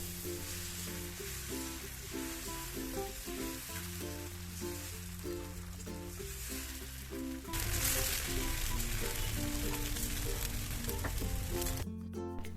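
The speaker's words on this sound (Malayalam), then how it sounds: "ഒരു കയ്യിൽ ദോശമാവ് എടുത്തിട്ട് ഇതുപോലെ ചുറ്റിച്ചു കൊടുക്കുക" Dosa batter from ground raw rice and cooked rice sizzles steadily on an oiled griddle, a continuous close frying hiss over background music that swells louder in the last few seconds.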